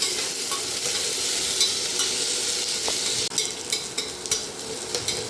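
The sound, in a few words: sautéing onions in a pan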